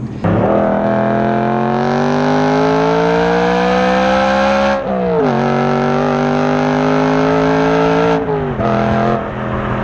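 A BMW E92 M3 engine revs hard and loud up close, its exhaust roaring and rising in pitch, dropping briefly, then climbing again in repeated pulls.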